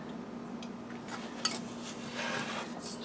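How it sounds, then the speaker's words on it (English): Spoon stirring a pumpkin spice fudge mixture of marshmallow cream, vanilla, pecans and white chocolate in a pot on medium heat, soft scraping and clinks against the metal, close and quiet. "Just going to stir it"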